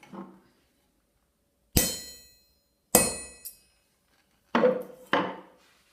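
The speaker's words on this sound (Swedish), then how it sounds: "Tar körnaren och gör ett märke en bit in från kanten." Four sharp metallic clangs ring out one at a time with pauses between, close and bright, a hammer striking a center punch to mark a metal plate near its edge.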